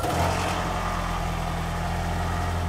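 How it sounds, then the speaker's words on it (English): A car engine idles after an exhaust repair, a steady low hum with a slight rev at the start, then a smooth, even idle with no rattle. "let's start up the car and make sure our noise is gone"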